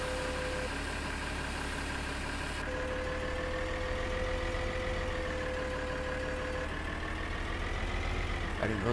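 A small tractor idles in Farming Simulator 2013, its engine giving a steady, even mid-pitched drone with a faint tonal hum, continuous and moderately quiet throughout.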